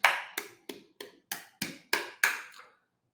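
Nine sharp hand claps land in a steady, even beat, each one crisp and close, evenly spaced with no accented beats and silence after the last.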